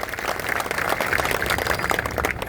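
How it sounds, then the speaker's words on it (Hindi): Crowd at a Yadav community mahapanchayat in Hansi claps in a dense, steady burst welcoming Gagan Yadav, a continuous wash of hand claps with no talk over it. "एक बार जोरदार तालियों से स्वागत करें"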